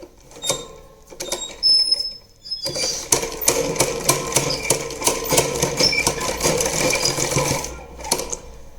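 Sewing machine stitching a puff sleeve on a blouse: a few short start-and-stop runs, then a steady, loud, rapid mechanical chatter for several seconds before stopping, with no talking.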